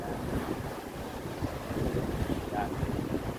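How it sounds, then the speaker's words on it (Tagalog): Strong sea waves churn beside a Royal Caribbean cruise ship, the Allure of the Seas. The water makes a steady rushing wash, heavily mixed with wind buffeting the microphone. "Lakas ng alon oh."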